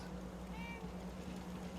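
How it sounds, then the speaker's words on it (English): A house cat gives a single short meow indoors, faint and partly buried under a steady low household hum. "Oh, there's the other cat."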